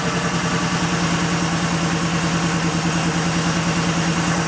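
An air-cooled Porsche 3.2 Carrera flat-six idles steadily on a cold day, a close, even low rumble with a quick regular pulse and no audible misfire or drop, running alone without talk.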